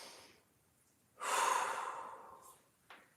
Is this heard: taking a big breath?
yes